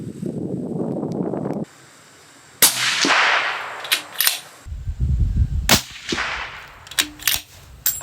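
Sharp, loud gunshots from an Aero Precision Solace .308 hunting rifle during accuracy testing at 100 yards, with several cracking reports and their echoing tails spread over a few seconds.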